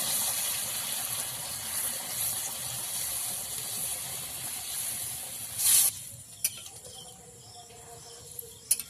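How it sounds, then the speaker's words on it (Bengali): Hot water poured into a pot of village-style chicken curry made with ground spices gives a steady, close gushing hiss for about six seconds, then stops abruptly, leaving a few faint clicks and quiet bubbling. "এই যে গরম জল দিয়ে দিয়েছি"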